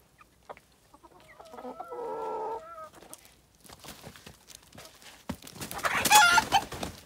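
A rooster's harmonic call rises loud in the middle, with hens clucking around it and scattered scuffling and rustling close by.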